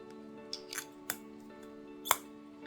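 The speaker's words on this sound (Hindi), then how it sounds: "एक क्लिक की आवाज़ आती है" The metallic cap of a Prada L'Homme perfume atomizer snaps shut with a few small, crisp clicks, one sharper than the rest, quiet and close over a steady background hum.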